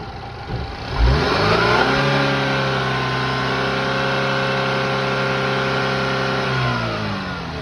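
Car engine revving as throttle is applied, rising from a low idle around one second into a strong, sustained high rev held steadily for several seconds before easing off at the end, close and loud with no talk.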